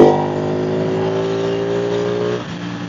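Ducati 899 Panigale motorcycle engine, 2014 model, revving hard in fourth gear after a downshift at highway speed, a loud steady harmonic roar holding close for nearly three seconds before easing slightly, with no talk over it.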